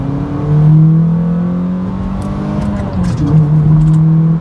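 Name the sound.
car engine revving with aftermarket intake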